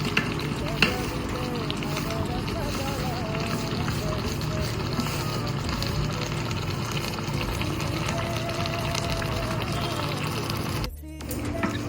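Mutton biryani masala with coriander powder fries in a pot with steady, loud sizzling and occasional stirring scrapes, continuous and close before cutting off abruptly near the end.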